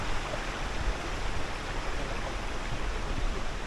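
Balagbag Falls in Quezon, Philippines, a steady broadband rush of falling water, close and continuous without pause.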